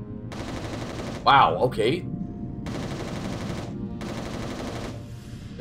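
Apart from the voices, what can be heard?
gunfire in the video game Resistance Retribution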